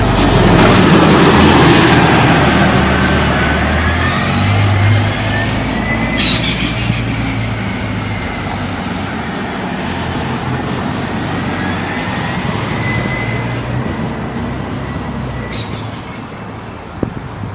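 A 1998-2000 New Flyer C40LF transit bus of the NYC MTA rumbles loudly nearby with a fluttering engine roar and rising, whining pitch sweeps, plus brief sharp pops and traffic noise around it, with no talk.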